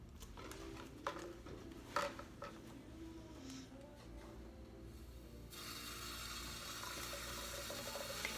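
Metal nail implements clink and rattle in a sink, then a tap opens and water runs in a steady hiss that fills the rest of the clip.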